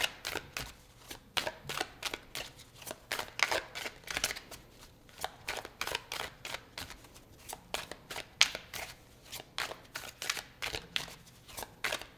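Tarot cards being shuffled at close range, a continuous series of quick riffling bursts in an uneven rhythm, with no talk.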